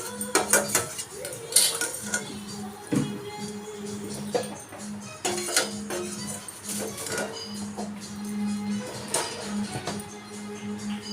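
Golden-fried food is lifted from a kadai onto a plate, with a spoon clinking and scraping against metal cookware in uneven bursts over a faint background hum.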